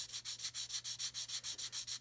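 A sanding stick rubs rhythmically along the edge of a 1/32 scale OV-10 Bronco model aircraft part, about a dozen quick, even scratching strokes, close and alone.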